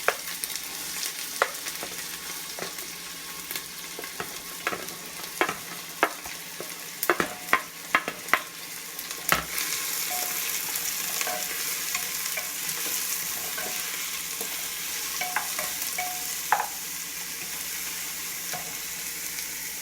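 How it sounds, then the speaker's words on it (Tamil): Onions sizzling steadily in a pan for mutton chalna, a continuous frying hiss broken by scattered sharp clicks and scraping stirs, close and fairly loud with no voices. "அதுக்கப்புறம் நம்ம வெங்காயம் போடுறோம்"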